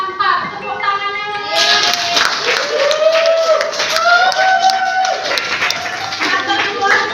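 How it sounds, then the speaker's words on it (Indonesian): A class of grade 12 science students claps together in a steady, close patter of many hands, with children's voices chattering over the applause throughout. "Tepuk tangannya"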